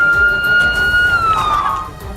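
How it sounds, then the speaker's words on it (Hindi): An emergency siren wails across a bombed area of Gaza after an airstrike, a single long tone that slowly slides downward and fades, with a muffled background rumble. "पूरे इलाके में सायरन की आवाज"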